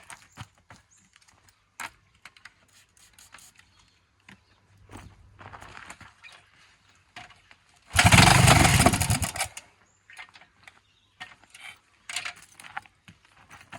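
An old farm motorbike with the choke on is kicked over: scattered clicks and light mechanical knocks, then a loud one-and-a-half-second burst of engine noise around the middle before it dies back to faint clatter.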